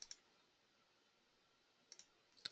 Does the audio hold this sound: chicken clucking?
no